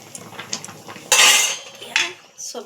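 A metal spoon scrapes and clinks against a cooking pan as cooked vegetables are lifted out: soft taps, then one loud sustained scrape and a few shorter scrapes, close and with no talking.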